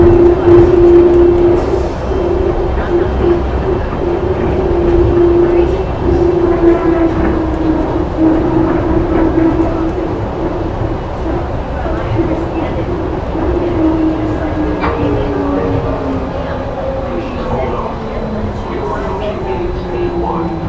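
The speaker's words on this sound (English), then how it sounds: "Trains are extremely loud, sorry about all the noise, guys." An airport train rumbles loudly and continuously close by, with a steady low drone and a tone that slowly drops in pitch, while people talk faintly underneath.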